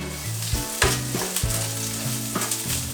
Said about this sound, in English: I want to cook the onion, the cabbage and the carrots